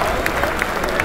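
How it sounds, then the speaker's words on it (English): A crowd of people clapping and applauding, a steady dense patter of many hands with a few sharper claps standing out, mixed with voices talking. "Everybody clapping, man. Applauding, man."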